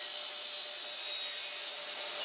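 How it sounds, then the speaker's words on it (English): Steady hand sawing through a wooden deck block, a continuous rasping stroke with no pauses, close and fairly loud. "Cut the top section of the block to the same angle as the rail."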